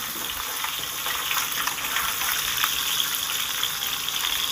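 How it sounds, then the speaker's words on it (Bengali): Small puti fish frying in oil give off a steady, bright crackling sizzle with scattered pops, continuous and fairly close throughout as the fish are strained out. "সব মাছ কটাকে আমি এবার তেল থেকে ছেঁকে ছেঁকে তুলে দিচ্ছি"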